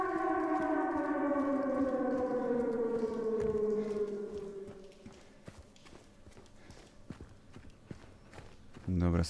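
A wailing civil defense siren in Silent Hill 2 Remake slowly winds down in pitch and fades, while hoof-like clip-clop footsteps continue rhythmically underneath.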